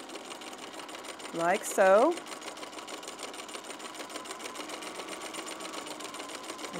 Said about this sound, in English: And now we're just going to stitch.